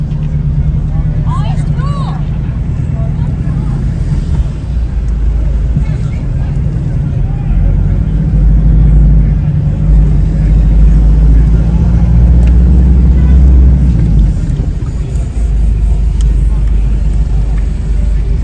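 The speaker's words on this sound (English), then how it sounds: "Turns out it's race day at Ascot and we're stuck in the traffic on the way home." Slow car traffic on the road home from Ascot on race day, a loud, steady low engine and road rumble heard from inside a vehicle, with people talking over it.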